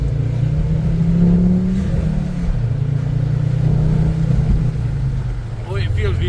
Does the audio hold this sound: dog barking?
no